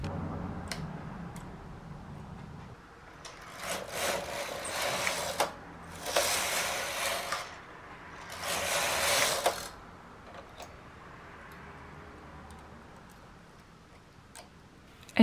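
A knitting machine knitting a dress makes three rushing, rattling carriage sweeps over soft mechanical ticking, with quieter clicks and clatter between passes.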